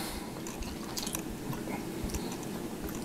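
Close, quiet wet chewing of chewy Chinese New Year candy, with soft irregular squishy bites and mouth clicks continuing steadily, no talk.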